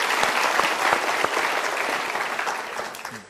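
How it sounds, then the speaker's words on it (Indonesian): Sustained applause from a seated audience, many hands clapping in a thick, even wash that stays strong and then tapers slightly toward the end, with no speech over it. "Kita berikan tepuk tangan dulu."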